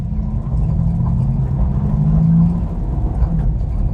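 Air-cooled engine of a 1975 Volkswagen Kombi while driving, a steady low rumble and drone heard from inside the van, holding even with slight rises in pitch and no voices.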